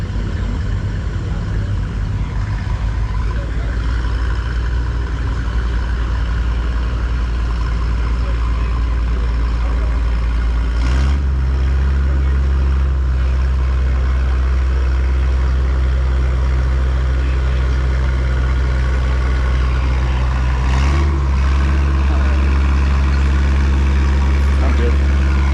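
A Minneapolis Moline LP tractor engine of about 105 horsepower runs loud and close with a steady deep rumble, broken by two brief dips in the drone.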